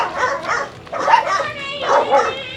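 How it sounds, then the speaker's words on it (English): Small dogs yipping and barking in short bursts at close range outdoors on a walk to a neighbourhood store in the Philippines, with people talking over and between the barks. "Messing with the dogs."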